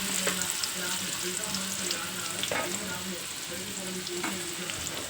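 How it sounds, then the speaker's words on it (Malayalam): Chopped garlic and shallots fry in coconut oil with a loud, continuous sizzle, close up, dotted with a few sharp crackles and a low steady hum underneath. "വെളുത്തുള്ളി ചുവന്നുള്ളി അരിഞ്ഞത് നമുക്ക് ഇതിലേക്ക് ഇട്ട് കൊടുക്കാം വെളിച്ചെണ്ണയിലേക്കോ ഓയിലിലേക്കോ ഇട്ട് കൊടുക്കുക"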